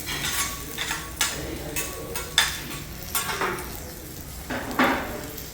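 Shrimp for fried rice go into a pan and cook, with bursts of hissing frying and repeated clatter and scrape of a utensil against the pan, loud and close with no talk.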